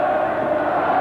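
A dense crowd roars loudly in a brief, continuous wash of noise, sounding broad and far-reaching like a packed stadium, during a rugby scrummage at the 1979 John Player Cup Final between Leicester Tigers and Moseley.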